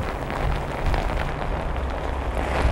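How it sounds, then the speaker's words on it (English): Rain and wind at a Virginia Beach marina during coastal flooding make a steady, dense hiss and rumble, constant and fairly loud throughout with no voices. "this rain and wind has definitely picked up"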